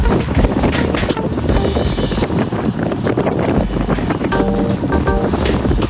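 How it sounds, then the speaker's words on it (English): Strong wind buffets the microphone of a cyclist riding along an open farm-country road, a loud, gusty, roaring rush that swells and dips without pause. "It's very windy."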